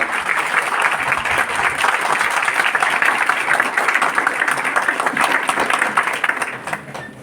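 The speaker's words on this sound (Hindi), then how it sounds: "एक बार जोरदार तालियां होना चाहिए जीतू के लिए" An audience gives Jeetu a loud, sustained round of applause, a thick, even roar of many hands clapping that fades slightly toward the end.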